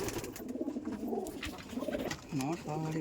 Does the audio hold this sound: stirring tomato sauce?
no